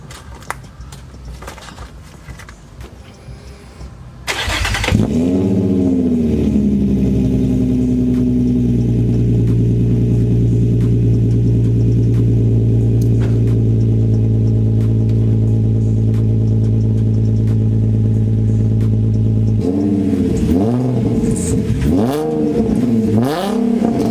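An Infiniti G35 coupe engine fires up from cold with a sudden crank and catch, then settles into a loud, steady high idle that slowly eases down before a few revving blips at the end.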